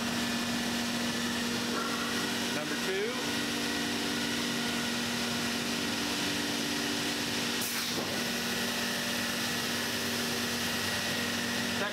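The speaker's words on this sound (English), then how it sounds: "we're going to hit the vacuum pumps, number one," A steady mechanical drone with a constant low hum runs throughout as a router's vacuum pumps run nearby, with a brief spoken phrase near the start.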